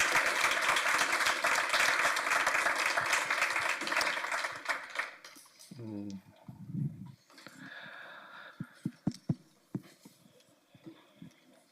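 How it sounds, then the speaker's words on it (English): Applause from an evening audience after a One Health One Welfare panel discussion, loud and sustained for about five seconds before fading into scattered claps, rustling and murmured voices. "Big round of applause."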